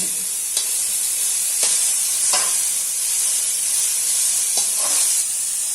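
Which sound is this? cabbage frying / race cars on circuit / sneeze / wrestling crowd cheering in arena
cabbage frying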